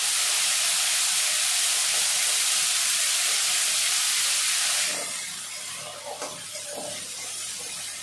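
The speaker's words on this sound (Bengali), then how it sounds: "পেস্ট করা মশলাটা দিয়ে দেব।" Ground spice paste for a katla fish curry hits a hot pan in a loud, close hiss that cuts off suddenly, then settles into a quieter, steady sizzle with a few soft utensil knocks.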